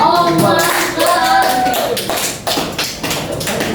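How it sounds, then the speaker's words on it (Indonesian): Students in a classroom clap for a classmate, a brief, loud burst of overlapping hand claps mixed with their voices. "Tepuk tangan dulu temannya."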